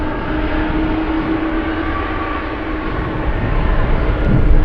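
A Boeing KC-135 jet aircraft flies overhead near Anchorage airport in gusty winds, a broad engine roar that holds steady and then swells louder toward the end, with no talk.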